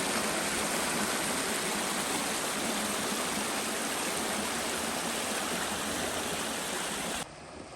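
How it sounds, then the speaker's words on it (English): Water from Buffalo Springs flows in a creek at Chickasaw National Recreation Area, a loud, steady rushing hiss heard close and alone that cuts off abruptly near the end. "There's the creek"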